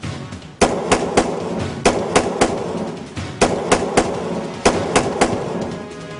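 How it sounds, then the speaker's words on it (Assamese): Armed militants fire guns into the air in Assam, India: loud, sharp cracks come in quick clusters of two or three with short gaps, each one echoing outdoors. "কেতিয়াবা ওপৰলৈ বন্দুক টোৱাই তেওঁলোকে গুলী ফুটাইছে"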